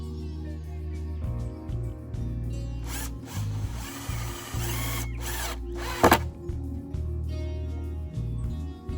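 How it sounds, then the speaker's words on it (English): A power drill drives big screws into the end grain of pallet wood for a DIY garden store, giving steady whirring bursts up close that stop and restart with short gaps. "Screwing it into the end grain, I'll just use big screws."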